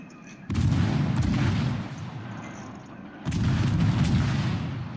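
Naval guns on warships fire in a sea-combat video game, two loud heavy booming salvos about three seconds apart, each with a long rumbling tail.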